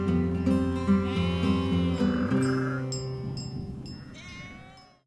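Sheep bleat repeatedly on a farm grazing pasture, several overlapping wavering calls near and loud at first, then fading away toward the end.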